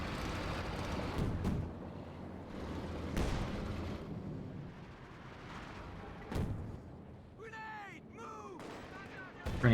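Howitzer artillery fire in Company of Heroes 2, a World War II strategy game, with heavy booming blasts at irregular intervals over a dense battle din. Chirpy effects rise near the end, and a commentator talks over the action.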